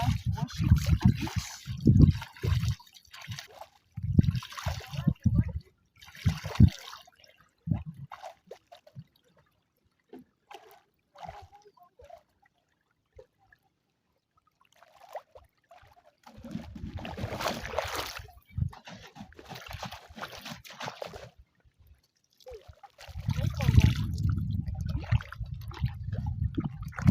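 Water splashes and sloshes in bursts as something is washed in the Nyabohanse River in an African village, mixed with stretches of nearby talking.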